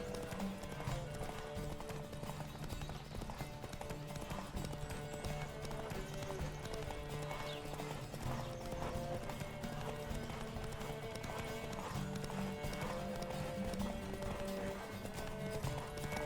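Rapid hoofbeats of a galloping horse in the video game The Witcher 3: Wild Hunt drum steadily throughout, with a soft musical backdrop and a brief faint whinny.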